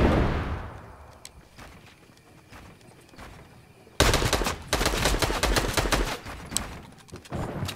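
Gunfire in the video game Fortnite: a burst of rapid shots over background game sounds, with dense continuous firing in the second half.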